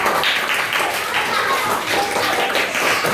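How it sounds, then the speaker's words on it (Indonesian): Schoolchildren applauding in an elementary classroom, a dense, loud burst of clapping from many small hands that carries on steadily, with children's voices mixed in. "Ayo aplaus, aplaus."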